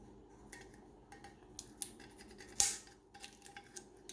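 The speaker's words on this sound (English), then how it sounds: "we just need to remove the tape from the tumbler" Tape is peeled off a sublimation tumbler in short, faint scratchy pulls with one sharper rip near the middle, close and quiet with no talking.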